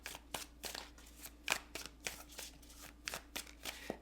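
Tarot cards being shuffled and drawn, a steady run of crisp riffling flutters and soft slaps, close and fairly quiet, with no voices.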